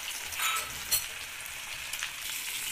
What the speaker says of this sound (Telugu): 2 కూడా వేసుకొని ఇలా మనము ఫ్రై చేసుకోవాలి.